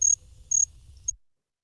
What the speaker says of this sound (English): little different call than the typical field crickets. So a little higher pitched.